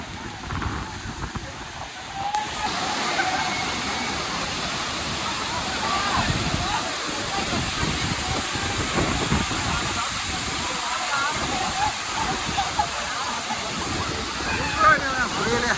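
A loud, steady roar of falling water that rushes and hisses without a break from start to finish, at Agaya Gangai Falls in the Kolli Hills.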